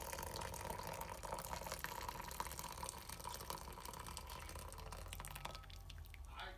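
Ramen broth pours into a bowl with a soft, steady liquid trickle and gurgle, faint and close, ending in a brief splash near the end.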